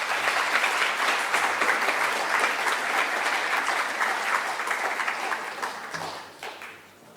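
Ceremony audience at a prize and scholarship event applauds an award recipient, a sustained even roar of many hands clapping that holds steady for several seconds, then thins and fades near the end.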